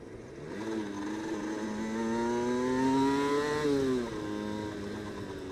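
Motorcycle engine braking on a road as the rider drops down into first gear: a steady engine drone rises in pitch over a few seconds, then falls sharply after the downshift and settles, heard up close with no talking.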